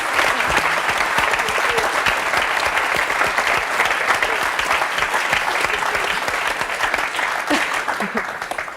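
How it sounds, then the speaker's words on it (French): Studio audience applause on a French talk show, a loud, dense, continuous roar of many hands clapping that holds steady for several seconds, faint voices mixed in beneath. "On peut applaudir Christine Robalo."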